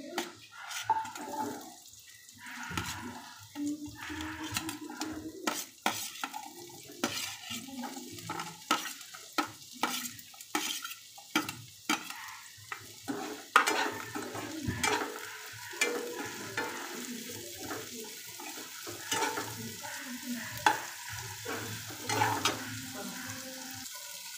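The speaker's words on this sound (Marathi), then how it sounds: "या तेलात आपण आता कांदा आणि बाकी मसाले फ्राय करणार आहोत" Onion and spices frying in oil for dum aloo, a soft continuous sizzle broken by frequent stirring clicks and scrapes of a spoon against the pan, close and quiet with no voice.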